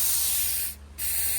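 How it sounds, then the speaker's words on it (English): Spray gun atomizing oil undercoating into open air, a steady close hiss of fine mist that briefly drops out near the middle before resuming. "Can you give it a spray out in the air too, Steve?"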